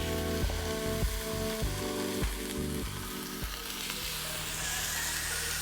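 A steak seasoned with garlic salt and ground pepper sears in a cast iron skillet, giving a loud, steady close-up sizzle under a faint rhythmic tonal background, with no talking.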